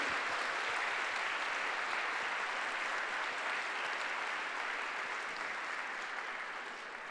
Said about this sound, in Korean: Me gustaría darles un aplauso otra vez a nuestro presidente por agradecernos a crear esta empresa maravillosa.